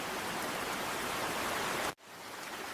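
Steady rain falls as a dense, even hiss that fills the whole stretch, cutting out abruptly for an instant near the end before resuming.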